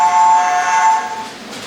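A Hornby TTS Tornado model locomotive's sound unit gives off a loud, steady, horn-like tone. It holds for about a second and then fades under a soft background hiss.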